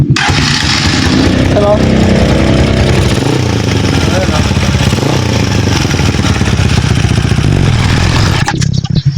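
A Rusi Classic 250 motorcycle with a heavily smoking exhaust starts up and settles into a loud, close, steady idle that throbs for the whole stretch before cutting off near the end, with one brief spoken word over it.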